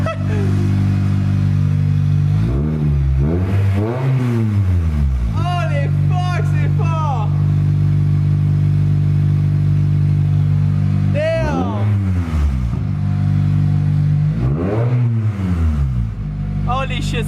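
An Acura RSX fitted with a new Yonaka exhaust revs loudly several times up close. Each sharp rise and fall stands over a steady idle, and excited voices talk around it.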